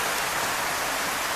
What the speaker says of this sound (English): Sorry about the horrible noise of the rain.